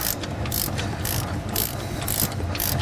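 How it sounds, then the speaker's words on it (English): A wrench on a 6.0 Powerstroke diesel injector cup sleeve puller ratchets steadily, close and loud, its clicks coming in regular bursts about twice a second over a continuous grinding mechanical drone. "Keep turning the wrench clockwise until it's free out of the bore."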